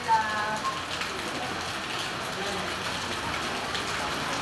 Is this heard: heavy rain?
yes